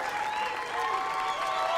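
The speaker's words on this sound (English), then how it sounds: "the appreciative crowd cheering on Gary and the winner" Appreciative crowd at a bowling stadium for the PBA World Championship finals, applauding and cheering steadily throughout, a dense wash of clapping with some voices mixed in.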